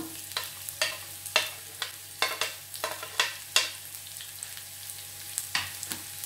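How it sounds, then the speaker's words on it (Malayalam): Chopped garlic and ginger sizzle in hot ghee, with a steady low frying hiss broken by repeated sharp scraping strokes of a spoon stirring the pan, close and fairly loud. "നമ്മൾ അരിഞ്ഞു വെച്ചിരിക്കുന്ന വെളുത്തുള്ളിയും ഇഞ്ചിയും കൂടെ ഉള്ളത് ഇതിനകത്തോട്ടിട്ടൊന്ന് ഇട്ടൊന്ന് മുപ്പിച്ചെടുക്കണം"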